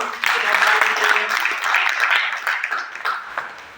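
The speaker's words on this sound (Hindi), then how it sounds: "तो एक बार ताली हो जाए स्टोन डॉग के लिए।" Audience at an awareness talk claps in sustained, dense applause that stays fairly loud, then thins and tapers toward the end.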